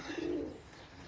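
Roller pigeons coo softly from a loft overhead, a low throaty rolling call that swells briefly then fades, heard alone with no talk.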